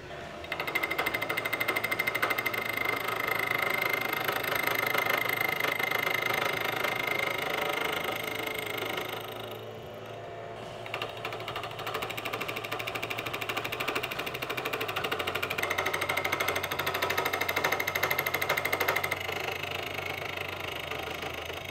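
A milling machine cutter chews through metal while shaping custom bicycle U-brakes, a loud, steady buzzing chatter that drops off briefly mid-cut before resuming.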